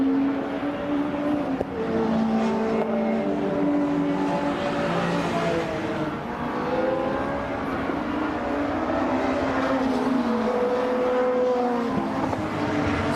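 Classic touring cars racing around the Brands Hatch GP circuit, engines droning and rising in pitch as cars pass, a continuous layered mechanical whine heard at moderate distance with no commentary.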